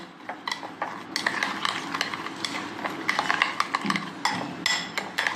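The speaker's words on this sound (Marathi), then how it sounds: "आता हे मी मस्तपैकी मिक्स करून घेत आहे" A spoon clinks and scrapes steadily around a bowl while sugar and jaggery are mixed into a raw mango panha, the tapping quick and irregular, close and fairly clear, with no voices.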